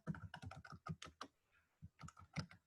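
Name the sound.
typing on a computer keyboard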